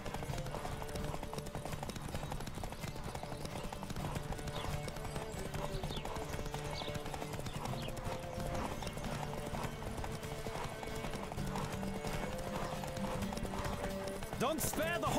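In The Witcher 3, a horse gallops with a rapid, steady clip-clop of hooves beneath continuous game music and ambient sound, with speech heard over it throughout.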